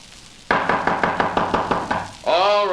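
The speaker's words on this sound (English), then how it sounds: "Suddenly, a loud knocking at his door startled him." Loud knocking on a door as a radio drama sound effect, about a dozen sharp, evenly spaced raps, followed by a brief swelling creak or tone at the end.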